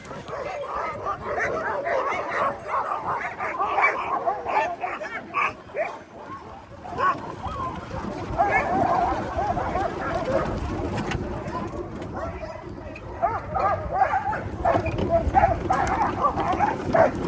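A team of sled dogs pulling a sled on a snowless trail in Willow, Alaska barks and yips excitedly in repeated bursts, near and fairly loud, with occasional bird calls and a voice or two in the background.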